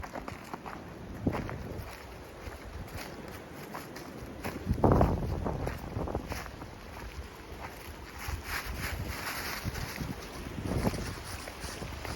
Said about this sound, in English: those last few gusts of wind